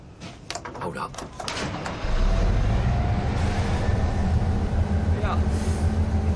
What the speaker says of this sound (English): It's a train yard, isn't it? There's train noises.